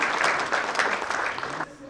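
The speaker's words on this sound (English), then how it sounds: "can we have a loud applause for" Audience applause at a 2013 MSME banking excellence awards ceremony, a dense wash of clapping hands held steady for a couple of seconds before tapering off near the end.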